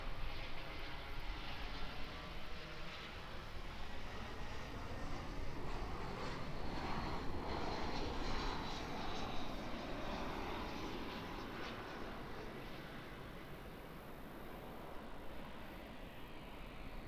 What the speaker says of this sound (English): coming in we've got an A320. Flight 416 from Wellington